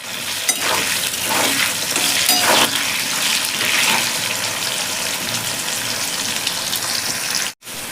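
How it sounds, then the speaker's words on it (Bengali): Salted potatoes and pointed gourd are stirred while frying in a pan, a loud, close, dense sizzle with scraping stir sounds that cuts out briefly near the end. "লবণ দেওয়ার পর একটু নেড়ে চেড়ে দেবো।"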